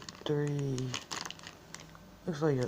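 A small plastic bag holding frozen mozzarella sticks crinkles and crackles in a short run of close, irregular rustles, with a person speaking just before and after.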